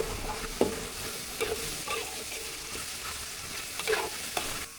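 Prawns in Thai tom yum sauce sizzle quietly in a pan while a utensil scrapes and stirs in irregular strokes, close up with no talking.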